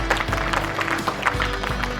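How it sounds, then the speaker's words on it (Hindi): Audience applauding at the Kalptaru Awards 2022 ceremony in Rajasthan, a brief burst of dense, steady clapping from a crowd, close and fairly loud, over a low steady background hum. "जोरदार तालियां"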